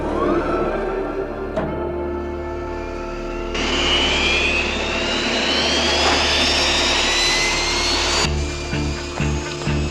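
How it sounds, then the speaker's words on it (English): A loud F-86 jet fighter engine whines and roars, its pitch climbing steadily as it spools up, then the sound cuts sharply to a lower rumble with a few short bursts near the end. "The F-86."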